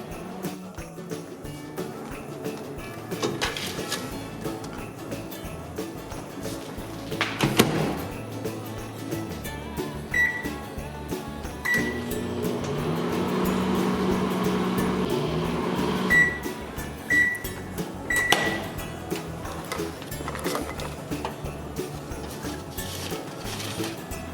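A microwave oven hums steadily while heating a pretzel sandwich, with a few clinks and beeps and some handling noises around it.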